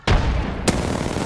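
Gunfire in a video game: two sharp, loud shots about half a second apart, each followed by a rumbling boom-like tail.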